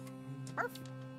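A person imitates a dog with a short, single vocal bark, a brief mid-pitched burst over a steady humming background.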